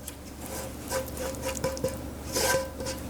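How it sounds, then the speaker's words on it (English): A spatula scrapes a mixture of lentils and mashed potato out of a pan with rough, repeated rasping strokes and soft knocks against the metal, close-up and fairly quiet. "Loving the spatula. Scrape everything out."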